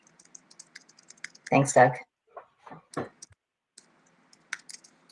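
Slow, sparse keystrokes tap on a computer keyboard during an online workgroup meeting, scattered clicks spread out with pauses, with a brief spoken remark partway through.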